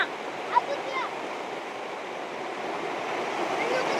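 Steady rain falling outdoors in open fields, a continuous broadband hiss with a light wind, one brief sharper patter near the start, otherwise even and unbroken.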